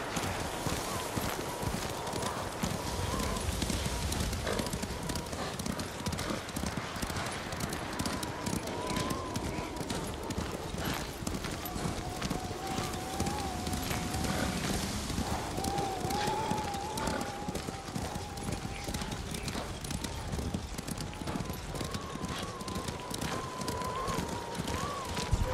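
Horse hooves clip-clop steadily at a riding pace in Ghost of Tsushima, a continuous rhythmic trot over wind and ambient noise throughout, with a faint voice now and then.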